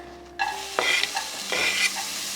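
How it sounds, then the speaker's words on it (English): Red pepper hits heated oil in a pan and sizzles loudly up close, with stirring scrapes and clatters breaking through the steady hiss. No one speaks. "You already hear that sizzle"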